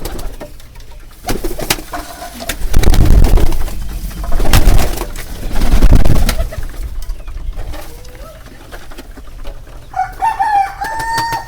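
Domestic pigeons coo while being given feed, their murmuring calls mixed with several loud, close bursts of rustling and fluttering, and a few higher thin calls near the end; no one speaks.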